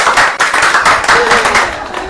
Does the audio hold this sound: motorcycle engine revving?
no